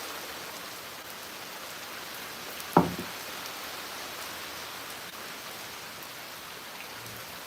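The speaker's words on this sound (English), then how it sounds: "Now it's raining harder." Heavy rain pours down in a steady, dense hiss at a constant level, broken once by a single short knock or thud near the middle.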